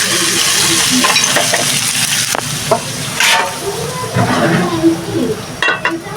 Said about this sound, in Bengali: আলু ভাজিটা গরম করে